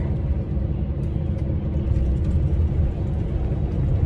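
A truck engine rumbles steadily while driving, a loud, constant low-pitched drone without pauses.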